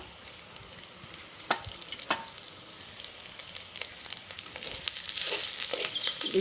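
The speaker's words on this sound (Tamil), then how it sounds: "வெங்காயம் பூண்டு பச்சை மிளகாலாம் நல்லா வதங்கி வந்துடுதுங்க" Onions, garlic and green chillies sauté in a pan for ginger chicken, with a soft steady sizzle and scattered spatula clicks and scrapes. The sizzle grows louder toward the end, close by with no voices.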